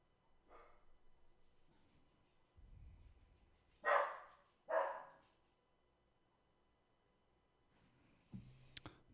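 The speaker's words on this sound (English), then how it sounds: "Dog's barking at something." A dog somewhere nearby gives two sharp barks in quick succession, fairly faint and distant, with scattered quieter noises before them and a clatter near the end.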